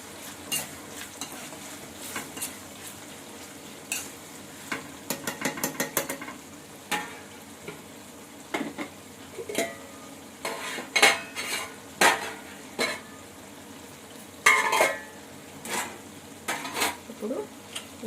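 Crabs frying in a pan and being stirred, with repeated scraping and clattering strokes of a utensil over a steady low sizzle, close and moderately loud.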